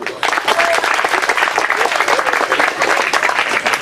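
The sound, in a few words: audience applause and cheering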